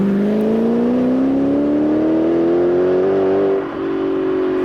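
A Spyker C8 supercar engine revs loud and close, its droning note climbing smoothly in pitch for several seconds before a brief dip and a steady hold.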